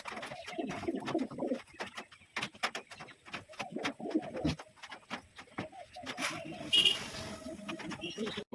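Pigeons coo softly and steadily in a loft, low rolling calls overlapping throughout with occasional clicks and rustles, all fairly faint and close.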